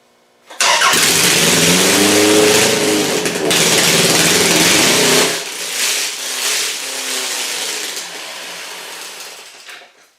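A Toyota Camry engine fitted with a GM distributor and an oversized carburetor roars to life and runs loudly and roughly for several seconds, then settles to a lower, uneven idle.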